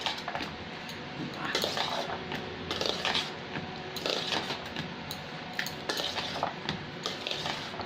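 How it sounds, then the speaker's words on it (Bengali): A spoon clinks and scrapes against a bowl as matar chaat is mixed with grated raw mango, producing repeated rhythmic metallic taps and stirring sounds close up. "এবার সবকটা খুব ভালো করে মিক্স করব।"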